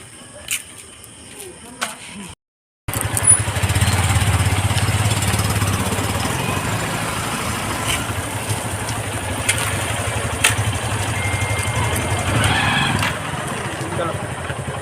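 A motorcycle idles nearby with a low, steady engine rumble that follows a brief cut in the sound, while people chat over it.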